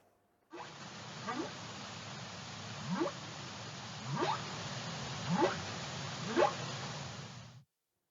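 A series of five rising, moaning humpback whale calls spaced about a second apart over a steady underwater hiss.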